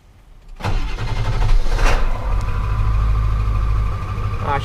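A 7.3 Powerstroke diesel truck engine cranks and fires after a short quiet moment, then settles into a loud, steady, rumbling idle that carries on to the end. No one speaks.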